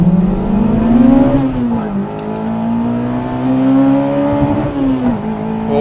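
Honda race car at a drag strip revving hard, engine pitch climbing and bouncing off the rev limiter, loud and close with a sustained roar that dips and rises again.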